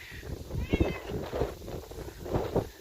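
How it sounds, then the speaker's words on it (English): A few wavering, nasal wailing calls from a raccoon, close by and fairly loud, rising and falling in a short series with no voices. "It's quite the sound. I'm pretty sure it's a raccoon."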